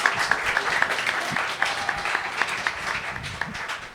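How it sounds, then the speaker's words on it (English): An audience at a community arts and health gathering in Owensboro applauds, a dense, even wash of clapping that holds steady throughout without fading. "So big round of applause for Aaron Kizer."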